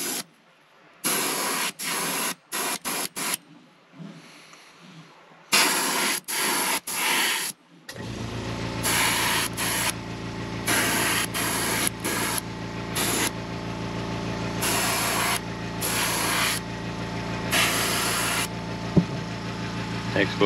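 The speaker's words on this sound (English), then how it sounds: "That I'm just gonna spray a little bit over all the body." Short bursts of spray paint hissing up close onto a soft plastic fishing lure, then longer sprays continuing over a low engine-like hum.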